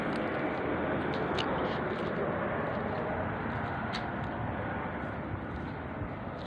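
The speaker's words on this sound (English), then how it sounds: "There's a plane going over just as I said that." An airplane passes overhead outdoors, a loud, steady broadband engine roar that holds throughout without fading.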